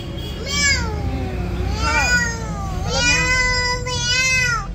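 A cat meows repeatedly while being fed, several drawn-out rising and falling meows close by, loud and clear over a low background hum.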